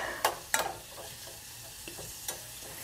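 Onions sweating in a pan in a kitchen, a soft steady sizzle broken by a few sharp scraping stirs near the start and one later, close and quiet with no talk.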